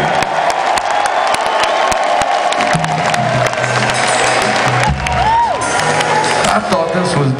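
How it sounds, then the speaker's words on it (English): A concert crowd at a show in a Detroit theater applauds and cheers continuously, with dense clapping and whoops filling the hall and a voice rising briefly over the roar. "Give yourself a big round of applause for coming out one more time this evening."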